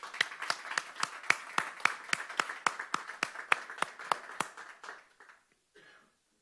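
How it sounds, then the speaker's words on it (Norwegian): Audience at a NUUG 40th-anniversary conference talk in Norway claps in a steady, fairly close round of applause that rolls on for about five seconds, then thins out and stops, leaving near silence. "vi kanskje skulle gi en applaus til de eksplisitt."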